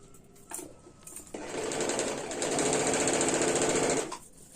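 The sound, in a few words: sewing machine stitching a kurti suit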